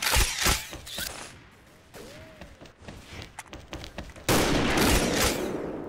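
Sniper rifle gunfire in the online shooter XSHOT, with scattered sharp shots and clicks of handling, then a louder, denser stretch of firing near the end.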